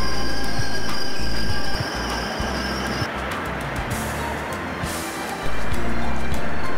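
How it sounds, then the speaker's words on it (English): A subway train in China rumbles loudly along underground tracks, with steady clattering and a high metallic whine, the roar dipping briefly before swelling again. "The train only runs underground beneath the streets of the busy city."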